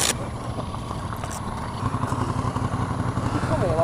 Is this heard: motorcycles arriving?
yes